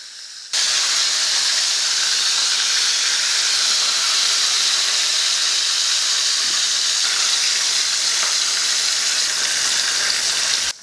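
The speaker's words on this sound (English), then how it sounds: "Frying adds another level of flavor." Fish partly frying in hot oil for a Caribbean stew fish dish, giving a loud, steady sizzling hiss that starts suddenly and holds evenly for about ten seconds before stopping.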